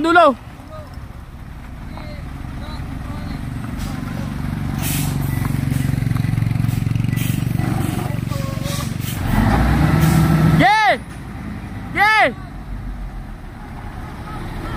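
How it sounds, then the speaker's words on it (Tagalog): Heavy diesel rumble of a dump truck towing a vehicle along a dangerous rough road, rising and droning steadily, with shouting voices and a couple of sharp horn-like tones near the end. "hinatak na kami sa isang dump truck namin no"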